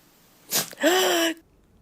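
A single close sneeze: a sharp breathy intake followed by a loud voiced burst, then quiet.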